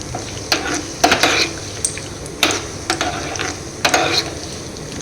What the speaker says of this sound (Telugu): దీనిలో నేను ఇప్పుడు ఫస్ట్ కొబ్బరి వేసానండి. ఇది కొంచెం వేగిన తర్వాత